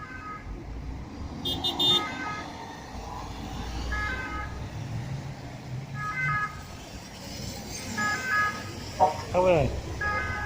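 Two SAMU ambulance trucks sound their sirens on a motorway, the A13, their wailing tones coming and going over steady road noise, with a rising sweep near the end and people talking nearby.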